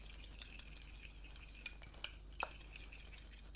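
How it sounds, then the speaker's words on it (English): A spoon clinks softly against a bowl while a lime juice salad dressing is stirred, a few faint, sparse taps against a quiet background. "And then give that a stir."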